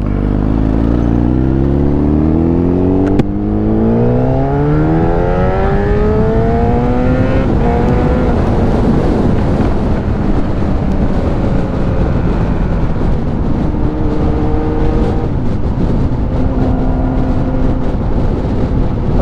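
A motorcycle on a ride near Trun Harbour accelerates hard, its engine note climbing steadily through rising revs with a gear change, loud and close under rushing wind for the whole stretch.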